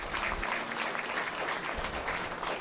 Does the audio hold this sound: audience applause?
yes